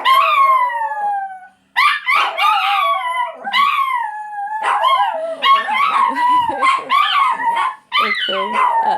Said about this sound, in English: let me pause for my howling puppies